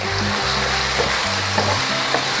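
Masala-coated chicken drumsticks fry and sizzle in a pot for a biryani, a steady close hiss with a few soft stirring clicks and pops and no talk.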